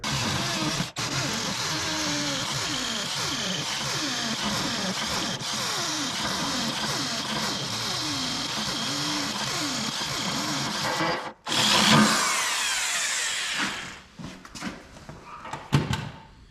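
A cheap drill grinds steadily into a concrete garage floor for several seconds, then a burst of harsher noise and a few scattered knocks and clatters follow.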